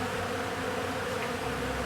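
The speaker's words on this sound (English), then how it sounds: "look at all these bees flying around here trying to get in here and get this honey that's in those frames" Many bees swarm around honey-filled hive frames left out in the open, making a dense, steady buzzing hum that is close and continuous.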